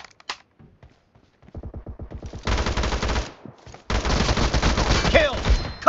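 P90 submachine gun fire in PUBG Mobile during a 2v2 team deathmatch room: a few sparse early shots, then sustained rapid automatic bursts, loud and close, broken by a short pause before firing resumes.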